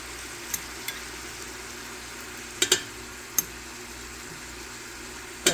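Garlic spooned into a pot of cooking soup and stirred, with a small spoon clinking sharply against the pot a few times over a low, steady background hiss.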